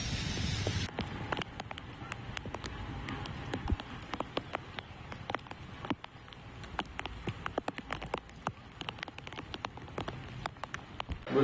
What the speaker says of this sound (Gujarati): શહેરમાં બપોર બાદ વરસાદના હળવા ભારે ઝાપટા પડ્યા હતા.